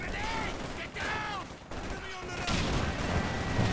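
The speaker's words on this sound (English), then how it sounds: "This barrage might actually decrew one of them here." Artillery barrage in Company of Heroes 2, with dense overlapping shell bursts and gunfire rumbling continuously under a commentator's voice, getting louder toward the end.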